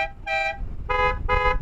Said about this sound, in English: I press a button, then I get dual horns.